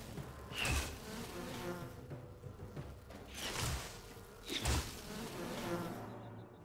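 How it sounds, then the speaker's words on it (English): Bees in the Enshrouded video game buzz in swelling, insect-like bursts, about three pulses separated by quieter stretches, fairly close and moderately loud. "Nice. Took those bees out quick."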